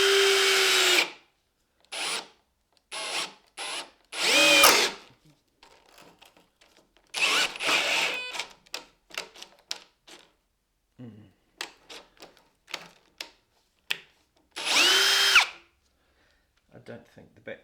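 A battery drill bores a hole with an old drill bit in bursts: a loud whirring spin-up, then a series of short choppy pulses and a few brief revs. Someone talks in the pauses between runs.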